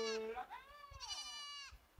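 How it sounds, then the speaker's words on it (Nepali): Goats bleat close by as a herd comes back up from grazing in the forest, with a couple of long, wavering calls filling the short moment. "आउँदैछ माथि बाख्राहरू"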